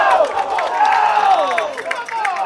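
Baseball crowd at a Liberty Hill versus Cedar Park game reacting to a close play at second base, a loud mix of shouting and cheering voices with scattered claps, rising and falling throughout.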